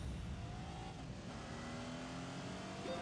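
A Ferrari Testarossa engine in The Grand Tour Game, a steady loud rumble holding for about three seconds with slight shifts in pitch, heard alone.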